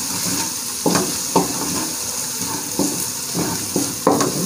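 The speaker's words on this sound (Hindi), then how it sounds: "और 1-2 मिनट के लिए पकाएंगे, ताकि जो हमारी मिर्चें वो अच्छी तरह पक जाएं" Green chillies sizzle and fry in a pan of mongre keema, with a steady hiss broken by several scraping stirs of a spoon against the pan, close and clear with no voices.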